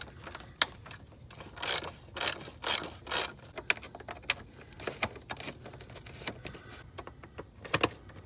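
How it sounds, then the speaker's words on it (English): A ratchet breaks loose the bolts on the air filter housing of a 2005 Honda Element, giving close, repeated bursts of quick metallic clicking with short pauses between strokes. "We'll just break them all loose first."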